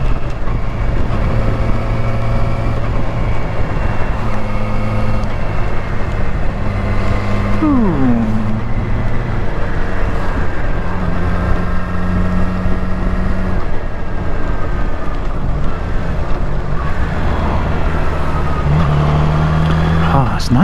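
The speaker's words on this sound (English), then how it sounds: "Oh, it's nice riding this bike again." A Yamaha R6 sport motorcycle drones steadily while riding, its engine tone rising and falling with gear changes under heavy wind rush. The engine has an intermittent engine management fault.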